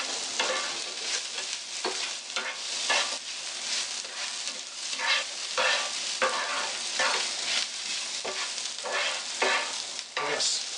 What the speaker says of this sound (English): We're going to add a little bit of salt to this, stir it up